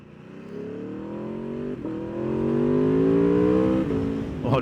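A Triumph Street Triple or Aprilia RSV4 motorcycle accelerates hard, its engine note rising steadily through the revs, with a brief dip at a gear change partway through and another near the end, loud and close throughout.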